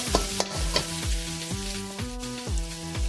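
Masala stirred in a hot pan, sizzling steadily while a spatula scrapes through it in a regular rhythm about twice a second, close and clear.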